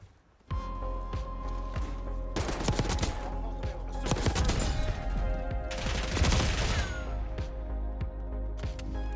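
A submachine gun fires rapid bursts in Black Ops 6, loud close automatic fire in several long strings separated by short pauses, with no voices.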